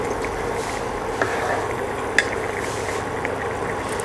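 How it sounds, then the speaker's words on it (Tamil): Vada curry boiling in a pot, a steady soft bubbling and simmering hiss with faint occasional clinks, continuous and close with no talk. "இந்த மாதிரி நல்லா கொதிச்சிருச்சு."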